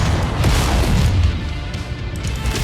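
A rocket explosion booms in the Mechwarrior 5 Mercenaries game, a dense, continuous low rumble with crackling debris that stays loud for nearly three seconds without a clear break.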